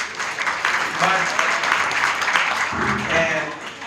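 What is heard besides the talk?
audience applause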